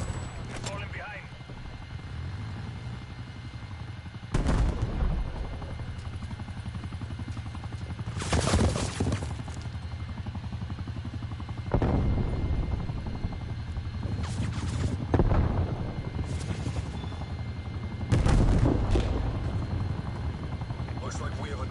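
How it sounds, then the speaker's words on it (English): A hostile chopper gunner circles overhead in Call of Duty Cold War multiplayer, with steady helicopter rotor drone broken by repeated loud bursts of gunfire at intervals. "Hostile chopper gunner operating."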